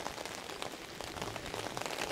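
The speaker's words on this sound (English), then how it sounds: "getting out here in the rain, walking around" Heavy rain pours steadily on a street in North End during a walk, a dense, even hiss of drops spattering on pavement and surfaces, with no voices.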